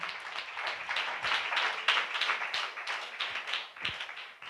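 A crowd applauding with steady, dense clapping that holds at a fairly even level throughout, no voices standing out.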